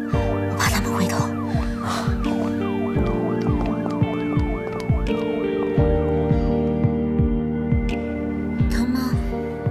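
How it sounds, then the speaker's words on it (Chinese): A police siren recording plays from a phone, its rapid rising and falling yelp cycling steadily for about ten seconds, loud and close, with low background noise underneath. "用手机放了警笛的录音。"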